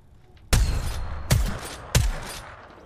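Three heavy gunshots from Apex Legends gameplay, each a sharp loud blast with a short decaying tail, spaced roughly evenly over a few seconds with no talking.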